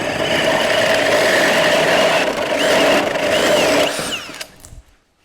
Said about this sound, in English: There is the big Hawg carbide tooth hole saw.